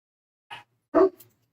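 A dog barks outdoors twice in quick succession, a short yelp followed by a fuller bark, fairly faint and somewhat distant, with no talking over it.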